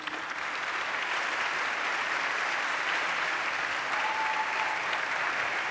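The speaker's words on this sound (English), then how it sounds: "Round of applause for this panel, please." A conference audience applauds a panel at a tech conference session, with even, continuous clapping from a large room held at a steady level throughout.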